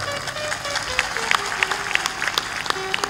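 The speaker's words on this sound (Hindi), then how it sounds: "जोर से ताली बजाया करो।" Clapping from an audience at a spiritual discourse, uneven and scattered with sharp individual claps standing out over a murmuring crowd, a sustained tone running underneath throughout.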